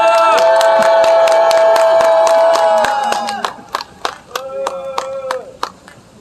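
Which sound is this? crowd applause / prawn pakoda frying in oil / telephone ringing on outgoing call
crowd applause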